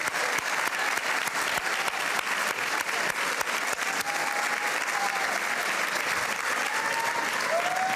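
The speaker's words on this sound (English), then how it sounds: "just please stand up in the room so we can give you a round of applause" A room full of people applauding continuously, sustained clapping with a few louder individual claps standing out throughout.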